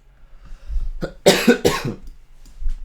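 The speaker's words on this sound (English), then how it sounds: "I feel like I'm gonna need to cough very soon" A short cough, two or three rough bursts close to the microphone, with quiet breathing around it.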